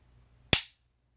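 A single sharp, close metallic click from the trigger reset of a DDM4 V11 Pro rifle, one crisp snap that decays quickly in an otherwise quiet setting.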